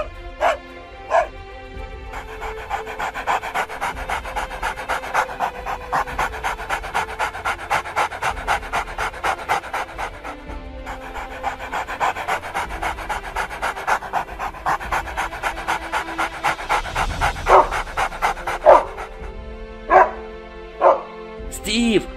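A dog pants rapidly and steadily, with short barks and yips breaking in near the end; a voice murmurs faintly in the background.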